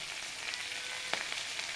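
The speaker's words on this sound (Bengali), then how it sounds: "এইবারে এটাকে ফ্লেমটাকে হাই করে এইবারে এটাকে ভেজে নেবো ভালো করে" Prawn heads frying on high flame, a steady bright crackling sizzle, close and even, with occasional small pops and one faint clink.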